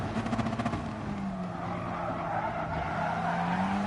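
Gran Turismo style Gr.4 race car at Bathurst braking hard: a steady engine drone with rising tire squeal and skidding whine that holds for several seconds, close and continuous, with a faint pulsing rumble at the start.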